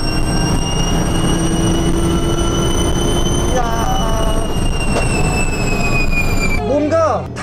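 Hyundai RM20e 800-horsepower sports car at high speed past 200 km/h, a loud continuous engine whine with steady rising harmonics and road noise, close to the cabin, ending in a shifting whistle.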